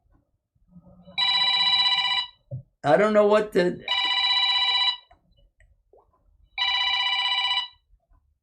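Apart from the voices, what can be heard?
telephone ringing with no call to answer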